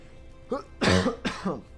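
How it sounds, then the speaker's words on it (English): A few harsh coughs in quick succession, close and fairly loud, with a short pause between the bursts. "I've been dealing with a pretty nasty cough the past couple of days."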